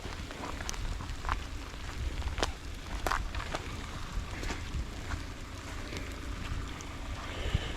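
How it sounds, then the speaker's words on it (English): Steady rain falling at ANZAC Cove, Gallipoli, a dense continuous patter outdoors with scattered sharper drops and a low wind rumble, no voices. "it's very wet, it's very rainy, but yeah, we had to come and see the ANZAC trenches"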